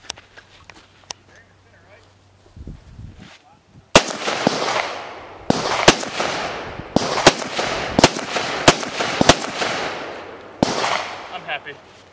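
Gunshots from XM855 green tip rounds fired at AR500 Level III steel armor ring out outdoors, about eight loud sharp reports spaced a second or so apart, each with a ringing decay, after brief talk.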